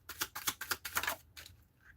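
Quick rapid riffling bursts of shuffled cards during a psychic reading, several short crisp flutters in a row, close and fairly quiet, ending in a soft pause.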